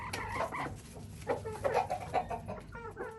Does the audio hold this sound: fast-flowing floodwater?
no